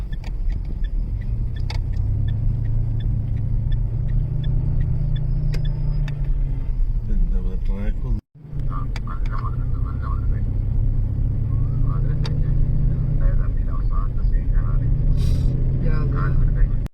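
A car drives through heavy traffic on Dammam road in Riyadh, Saudi Arabia, with a steady low engine and road rumble inside the cabin, scattered clicks and rattles, a brief dropout midway, and the drone continuing to the end.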